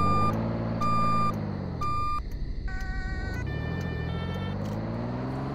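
A big truck in the Roblox video game backs up with its reversing alarm: evenly spaced, loud electronic beeps over a steady engine drone, then the beeping breaks off as the engine revs, and a few quicker beeps follow.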